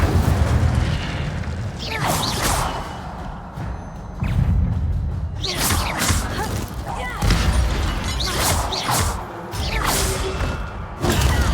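Incendio fire spell cast in Hogwarts Legacy, heavy whooshing bursts and booming eruptions of flame that recur in several waves among other spell effects, loud and close.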